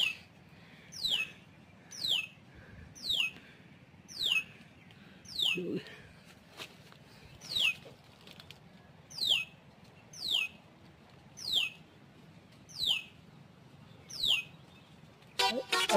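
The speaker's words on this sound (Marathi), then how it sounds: "चिमणी आहे ती." A house sparrow chirps in a steady rhythm, short bright notes repeating about once a second, fairly close over quiet background in Konkan countryside during the monsoon.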